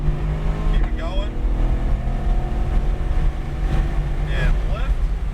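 A car drives at full throttle around a driving course, its engine droning steadily from close up inside the cabin while an instructor talks over it.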